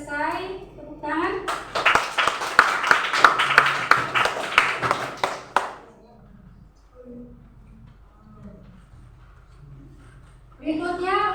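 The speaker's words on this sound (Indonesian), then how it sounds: "Tepuk tangan." A classroom group claps after a student presentation, a burst of many hands applauding for a few seconds, then quiet murmurs before children's voices resume.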